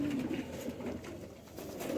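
Pigeons coo softly and continuously nearby, a low rolling murmur of several birds with no talk over it.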